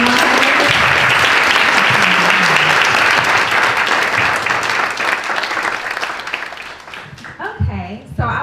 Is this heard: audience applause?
yes